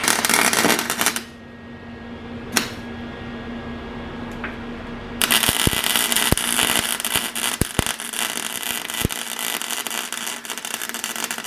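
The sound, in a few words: Welding an engine mount plate in a car engine bay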